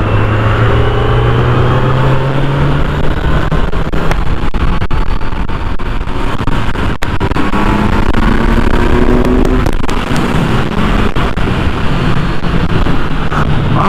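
A Kawasaki Z900 motorcycle engine pulls hard in fourth gear, its pitch rising steadily through the revs beneath heavy wind buffeting.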